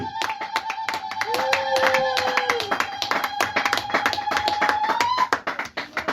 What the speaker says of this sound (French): Est-ce qu'on peut donner une offrande d'acclamation à Dieu?